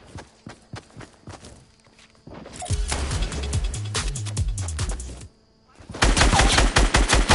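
Video game gunfire: scattered single shots and footstep-like clicks at first, then a sustained loud burst of rapid automatic fire, a brief pause, and another dense, close barrage at the end.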